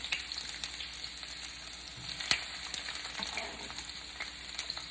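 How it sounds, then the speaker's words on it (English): Onions and peppers drop into hot oil and fry with a steady, close crackling sizzle that holds for several seconds, with one sharper pop and a few stirring scrapes, and no talking. "because my oil is ready to go, I'm going to go ahead and drop in my onions and peppers."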